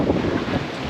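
Strong, cold wind gusting across a hilltop park overlooking Taal Lake in Tagaytay, roaring steadily into the microphone for the whole second with no voices over it.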